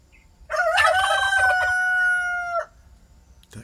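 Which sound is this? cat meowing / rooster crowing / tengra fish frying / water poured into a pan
rooster crowing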